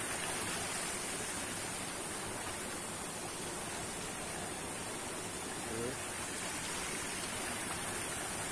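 A small river stream flows steadily in a valley, a constant broadband rushing wash heard close and unbroken throughout.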